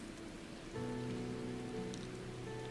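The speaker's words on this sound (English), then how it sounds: "look at the rocks that are shiny because it's raining" Rain falling in the Final Fantasy XIV video game, a faint even patter on surfaces that continues steadily under a soft sustained musical tone.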